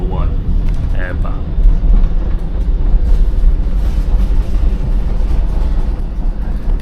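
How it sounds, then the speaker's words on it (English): A steady low rumble of a Tyne & Wear Metro train rolling along rails, with faint rhythmic clatter and someone talking over it. "It's quite a nice little train this, isn't it?"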